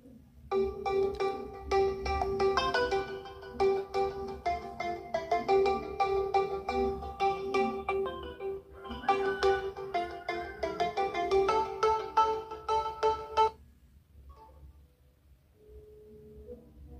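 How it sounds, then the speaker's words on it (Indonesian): Default WhatsApp ringtone playing on a Realme C51 phone, a bright repeating electronic melody sounding loud and steady for about thirteen seconds before stopping, leaving quiet room tone with a faint trailing note. "untuk nada dering WA HP Realme C51 saya ini sebelum diubah nada deringnya seperti ini"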